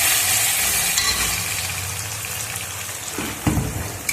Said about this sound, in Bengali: পেস্টটা ভালো করে কষিয়ে নিই ততক্ষণে।